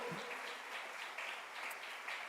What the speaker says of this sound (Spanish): Dele palmas de alabanza al Señor